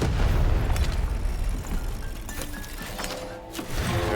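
A bomb blows up in the PC game Lost in Random with deep booming blasts, loud at the start, then a dip and further thuds and crackling bursts amid game sounds over about four seconds, with no talking.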